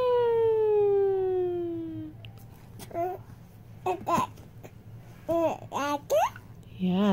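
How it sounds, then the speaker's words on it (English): A falling siren wail from a toy fire engine sounds for about two seconds, followed by a child babbling and a small laugh. "It has a siren. The siren goes."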